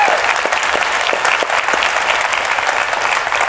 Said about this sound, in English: Let's give her a big round of applause for what she's done